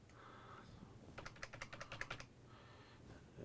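Someone types on a computer keyboard in a quick run of soft key clicks, faint and close, with quiet room noise before and after.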